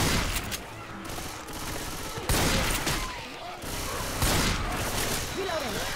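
In Left 4 Dead 2, rapid bursts of gunfire crackle against armored military zombies, loud and close, overlapping with shouting players' voices throughout.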